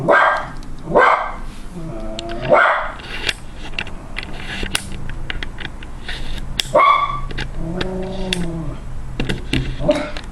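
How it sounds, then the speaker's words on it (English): Schnauzer barking indoors, several loud close barks in bursts with whiny yips between and quieter gaps. "we're just going to deal with the dog barking for a little bit"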